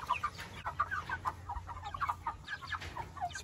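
Chickens in a chicken tractor pen on a hot farm day cluck in a busy, overlapping stream of short, close calls, with no talk over them.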